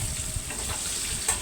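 Brinjal and peanuts with salt and turmeric fry under a lid, giving a brief, steady, close sizzle.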